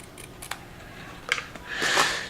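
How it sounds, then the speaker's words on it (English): Ordinary scissors snip through blindfold fabric in a few short, crisp cuts, close and quiet, ending in a longer rasping slice. "Just cuts with regular scissors,"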